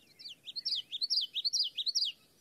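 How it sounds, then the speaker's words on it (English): Wetland bird calls, a rapid series of high, bright chirps and trilled notes repeating in quick bursts, close and clear over a quiet background. "I have some people saying they hear different birds."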